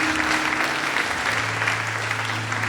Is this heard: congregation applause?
yes